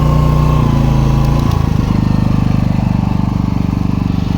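A Senci SC 4000 i-O inverter generator running under load, a loud, close, steady engine drone whose pitch shifts and settles partway through, with no talking.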